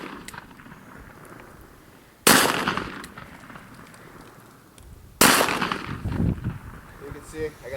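Two loud, sharp blasts from a Taurus Judge revolver loaded with buckshot, fired a few seconds apart outdoors, each with a lingering rumble and echo and faint background noise between them.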